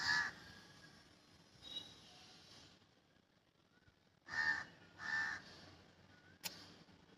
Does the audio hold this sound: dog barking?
no